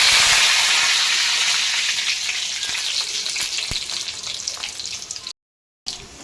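Garlic and curry leaves fry in hot oil in a pan, giving a loud, steady broadband sizzle that slowly eases off, with one brief cut to silence near the end.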